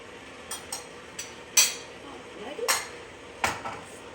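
Cinnamon being mixed into bread dough ingredients in a bowl, a few sharp utensil clinks and knocks spaced irregularly against quiet room tone.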